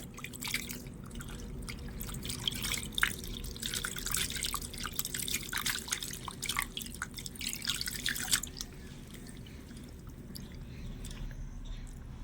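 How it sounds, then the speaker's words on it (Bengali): Water is poured a little at a time over chhana to rinse it, giving a close spattering and dripping trickle that runs for about eight seconds before fading to faint drips. "এইবারে উপর থেকে অল্প করে জল দিয়ে আমি ছানাটা ভালো করে ধুয়ে নেব"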